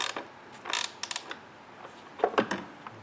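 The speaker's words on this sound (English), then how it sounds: "Tighten her down." Ratchet tightening a bolt on an Audi B8 front control arm, a few quick clicking bursts close by, spaced irregularly over faint background noise.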